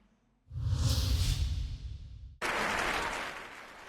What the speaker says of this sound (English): Applauding and hugs.